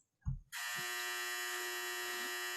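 A hair dryer switches on after a short bump, then blows with a loud, steady high-pitched whine and whoosh that holds constant to the end, with no talk.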